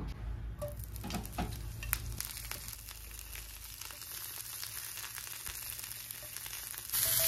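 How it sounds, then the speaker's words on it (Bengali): Cauliflower pieces fry lightly in refined oil in a pan, a soft, low-level sizzle with scattered crackles and small stirring clicks, steady throughout and slightly louder at the very end. "আমি প্রথমে ফুলকপিটা ভেজে নেব"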